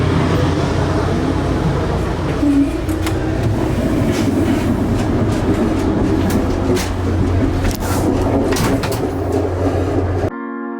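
Steady rumble and rattle inside a moving double-deck Tri-Rail commuter train, wheels clicking over rail joints under a constant low drone, with scattered clicks and knocks throughout and no clear talking.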